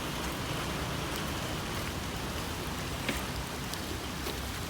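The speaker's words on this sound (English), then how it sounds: "So it's a little bit raining now" Light rain falls outdoors at an archery park as a steady, even hiss of drops on surfaces, with a few faint individual drips.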